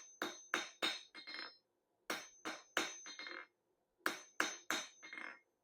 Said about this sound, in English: Now try not to talk while I'm hammering because I'm sure you can't hear while I'm hammering.